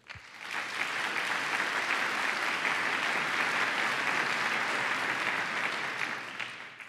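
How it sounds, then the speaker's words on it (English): An audience claps steadily for the products and services track finalists at the 2011 MIT 100K business plan competition. The applause is full and sustained for about six seconds, then tapers off, with no talking over it. "please give a big round of applause"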